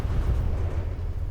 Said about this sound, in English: The torpedoes and the mortars fire now, so we got something.